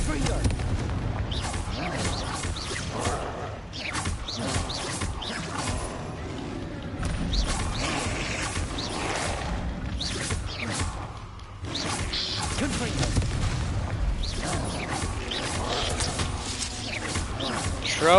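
Confringo explosion spells are cast repeatedly in Hogwarts Legacy, giving a dense run of blasts, whooshes and impacts under a game soundtrack, with a voice talking over it.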